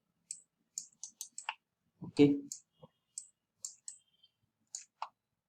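Computer mouse or keyboard clicks ring out crisply while working in Maya, about a dozen quick, close, separate clicks spread out irregularly, with a person speaking briefly in the middle.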